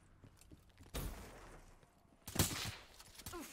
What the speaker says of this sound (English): Did you guys hear my gun going off?